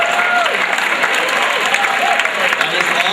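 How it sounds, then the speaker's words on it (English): Audience applause at a school program show, a dense burst of clapping filling the room at steady loudness, with some voices mixed in. "I think that deserves a round of applause."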